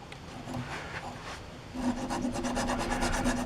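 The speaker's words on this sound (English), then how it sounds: "So just file it down enough to get the rust off and get a little bit shiny anyways." Metal file scraping rust off a rear brake bracket on a Chevy Silverado, rapid back-and-forth rasping strokes up close, growing louder and more rhythmic partway through, with no talking.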